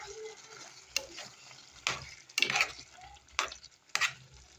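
Green peppers hitting a hot frying pan with chicken gizzards, giving a soft steady sizzle broken by several scraping stirs and light pan clatters, close and fairly quiet.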